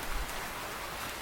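Cartoon rain patters steadily as a soft, even hiss of falling drops, brief and moderately quiet with no voices.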